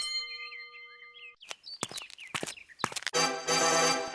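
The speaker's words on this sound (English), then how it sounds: "they rang the bell" A bell rings at the gate of the Emerald City in a Wizard of Oz story: bright chiming tones and short chirpy dings come first, then a loud, sustained ringing tone with rich overtones at the end.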